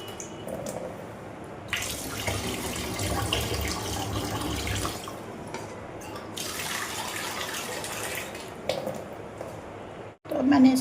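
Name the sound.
washing under running tap water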